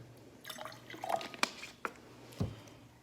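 Tap water poured into a container for a school mixture demonstration, heard as a few soft drips and splashes with a brief gurgle near the end, quiet and close with no talk.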